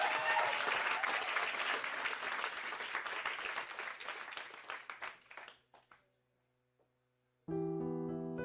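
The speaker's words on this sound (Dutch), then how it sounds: "Maak even een denderend applaus voor Jason" An audience at a live show applauds Jason loudly for about five seconds. The clapping thins out and fades to near silence before music starts.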